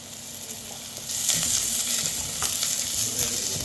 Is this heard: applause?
no